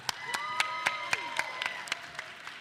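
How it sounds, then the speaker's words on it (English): Audience at a Youth Caucus meeting at the DNC in Chicago applauds for their chair, with sharp individual claps standing out over a steady, moderate crowd clapping wash under faint tonal sounds. "can we give a round of applause for our wonderful chair"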